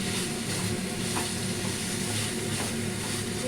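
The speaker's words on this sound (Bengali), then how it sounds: "এই সয়াবিনটাকে আমি খুব ভালো করে মশলার সাথে কষে নেবো।" Soybean chunks are stir-fried with spices in a pan, giving a continuous dense sizzle and hiss with faint scraping of stirring, steady and close for the whole stretch.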